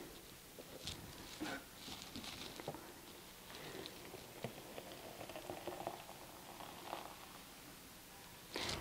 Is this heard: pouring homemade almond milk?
yes